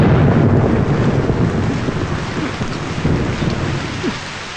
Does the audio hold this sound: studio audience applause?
no